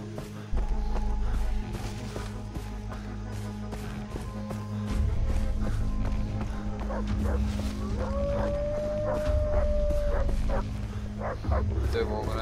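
Dogs in the Far Cry 3 jungle barking and yipping, with a rising drawn-out howl, under someone talking over steady game ambience.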